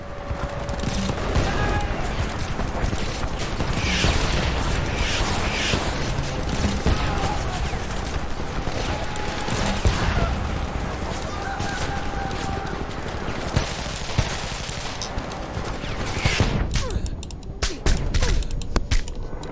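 Sustained automatic gunfire and bursts from a grenade launcher fill a battle in the shooter Homefront, dense and continuous with sharper blasts near the end, and brief voices break in.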